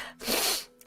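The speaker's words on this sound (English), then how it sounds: "and then I ended up sneezing" A single close sneeze, a sharp breathy burst with a short intake before it, then quiet.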